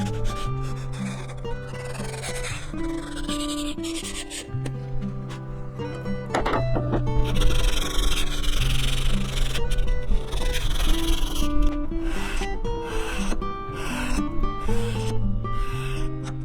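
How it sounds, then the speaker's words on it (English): Repeated rasping strokes of sandpaper on a black limba wood box, rubbing back and forth under steady background music. "now it's time to do the final sanding on all sides of the box"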